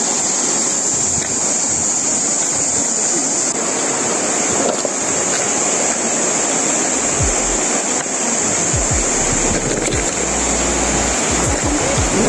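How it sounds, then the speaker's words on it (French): The Shala river flows steadily and loudly nearby. Its broad continuous rushing wash has occasional low thumps and wind buffeting underneath, and no one speaks. "c'est la vraie rivière Chala"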